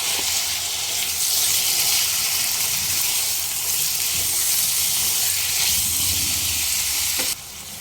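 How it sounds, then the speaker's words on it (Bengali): Chicken mince fries on a high flame with a loud, dense, continuous sizzle close by, holding steady before dropping abruptly near the end. "এবার হাই ফ্লেমে চিকেন কষিয়ে নেব"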